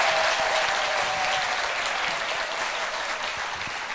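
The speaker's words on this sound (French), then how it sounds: "Je crois que ça mérite des applaudissements." A live television studio audience bursts into loud, dense applause, a continuous roar of clapping that holds steady and tapers only slightly.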